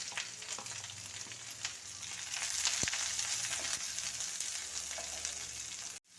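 Onion and green chili frying with curry leaves in a pan of oil for a Kerala carrot and bean curry give a soft, steady sizzle heard up close, with light stirring scrapes and a sharp knock near the end.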